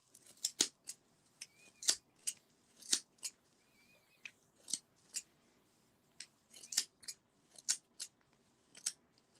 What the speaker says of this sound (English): And you can cut it. You can create this version. And here you cut along the center.